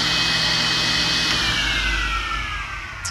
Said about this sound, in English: I can actually hear myself think above this table saw.